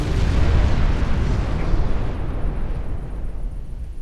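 Heavy naval gunfire from 6-inch guns in the warship game Ultimate Admiral Dreadnoughts, a loud booming blast with rumbling that slowly decays over several seconds, heard alone.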